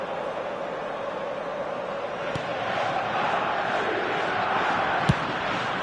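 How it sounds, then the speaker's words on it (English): Stadium crowd noise in an eFootball match: a broad, steady roar of spectators swelling slightly in the second half, with a couple of sharp ball-kick thumps, no voices on top. "at least the crowd are appreciative of his efforts"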